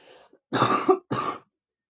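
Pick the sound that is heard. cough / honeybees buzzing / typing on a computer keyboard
cough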